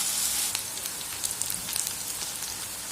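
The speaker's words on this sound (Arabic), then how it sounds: "من بعد ما حطينا داك الدنجال كامل غنخليوه حتى يتقلى لينا مزيان" Eggplant sizzling in hot oil in a pan, a steady close hiss with dense crackling pops throughout.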